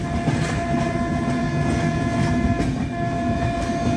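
A train hauled by a WAP-7 electric locomotive rolling into Vizianagaram Junction, heard as a loud, steady rumble of wheels and rail noise with a sustained horn-like tone running through, close and continuous.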